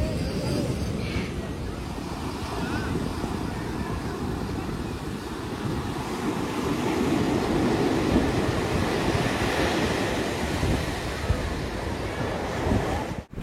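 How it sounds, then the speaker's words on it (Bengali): Surf at Candolim beach in North Goa, a continuous roar of breaking waves mixed with wind buffeting the microphone. "ক্যান্ডোলিম বিচে এখন আমরা দাঁড়িয়ে আছি।"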